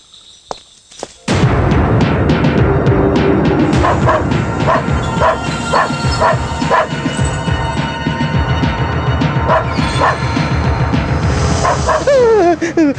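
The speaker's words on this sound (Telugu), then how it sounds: "కుక్క అరుస్తుందట్రా." A dog barks and howls at night, loud repeated barks in an irregular rhythm with drawn-out wails, close and dominant, after a brief quiet start.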